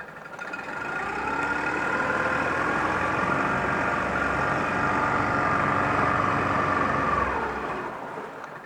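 A 2004 Yamaha 25hp four-stroke tiller outboard runs in reverse with a steady, droning engine tone that holds evenly for several seconds before easing off, close and fairly loud with no talking.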